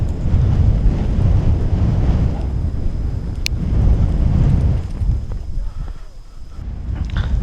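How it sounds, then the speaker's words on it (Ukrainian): Steady, heavy wind buffeting the microphone with a deep rumbling roar, easing slightly toward the end, during a fox hunt. "Сьогодні доволі вітряно"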